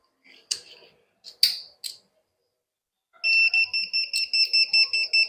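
FOXSUR battery charger sounding its error alarm: after a few faint clicks, a loud, rapid series of high electronic beeps pulses close by, with a voice faintly underneath.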